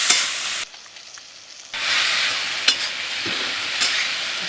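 Drumstick vegetables sizzle steadily in hot oil in a pan over a traditional clay stove for Manipuri fish curry, with a bright, continuous frying hiss, a brief quieter pause, and occasional scraping stirs.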